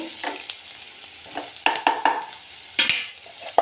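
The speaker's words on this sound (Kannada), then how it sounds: "ನೋಡಿ ಈರುಳ್ಳಿ ಚೆನ್ನಾಗಿ ಫ್ರೈ ಆಯಿತು" Onions frying in a pan for a Karnataka vegetarian dish, with a steady sizzle and several louder scraping stirs, the strongest near the end, close and clear with no talking.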